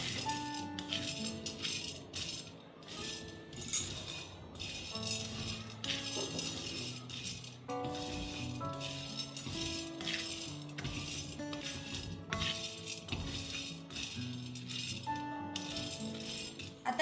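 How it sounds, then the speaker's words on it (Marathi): Lentils (dal) are dry-roasted over very low heat for Maharashtrian metkut, with a continuous rattle and scrape of grains and a utensil against the pan, close and steady throughout, and faint background music underneath. "अगदी मंद आचेवर ह्या डाळी छान खरपूस भाजून घ्यायच्या"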